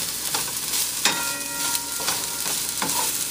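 Chopped vegetables, including peppers, cooking down in a hot pan with a steady sizzle, broken by a few scraping stirs and a faint clink, close and continuous with no talk.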